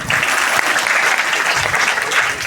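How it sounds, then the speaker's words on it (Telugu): An audience at a gathering with Radha Manohar Das in Ballari breaks into loud, close applause, a dense, continuous roar of clapping hands that fills the whole moment without pause. "చప్పట్లు"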